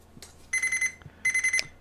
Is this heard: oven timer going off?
yes